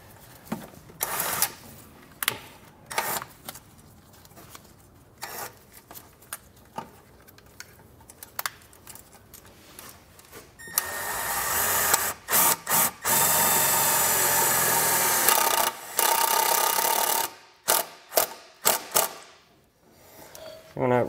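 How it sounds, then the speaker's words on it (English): A self-tapping screw driven into clean vehicle body metal with a power driver, heard as sharp, loud sustained whirring bursts between intermittent clicks and handling noises. "take a self-tapping screw and secure it to a clean piece of metal"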